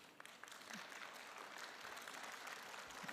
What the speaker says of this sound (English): Could you give her a round of applause?